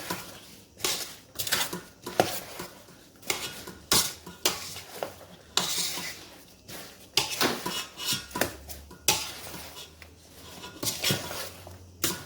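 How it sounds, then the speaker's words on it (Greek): A utensil stirs sliced apples in a bowl for a stevia-sweetened apple pie, making repeated clinking, scraping strokes in an uneven rhythm, fairly close. "και τα μήλα μας και ανακατεύουμε καλά"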